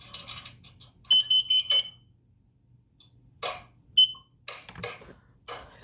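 A Kidde combination smoke and carbon monoxide alarm is tested up close, giving four sharp, shrill beeps in a row, then a recorded voice warning and further beeps.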